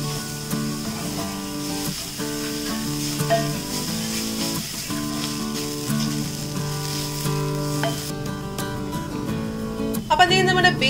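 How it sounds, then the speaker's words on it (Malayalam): Grated beetroot and onion sautéing in a pan, a moderate continuous sizzle with stirring scrapes, under background music, with a brief louder burst of sizzle near the end. "ഈ ഉള്ളിയുടെ ഒപ്പം തന്നെ ഇട്ടിട്ട് നമുക്ക് നന്നായിട്ട് വഴറ്റിയെടുക്കാം നമ്മുടെ ബീട്രൂട്ടിനെ"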